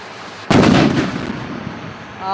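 A village Diwali sky rocket firework (vanam) bursts with one loud, sharp blast outdoors, followed by a rumbling echo that slowly fades over low background noise.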